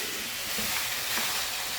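Carrots and potatoes being stirred and cooked in a pan for a pork empanada filling, a steady soft sizzle and hiss with faint scraping, no talking.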